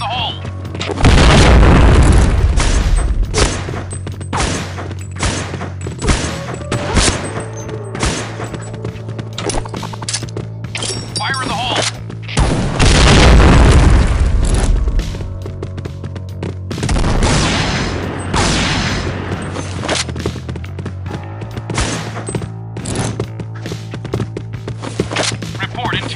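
Grenades explode in the shooter game Point Blank as several heavy booms with long rumbling tails, set among gunfire bursts and game announcer voice lines.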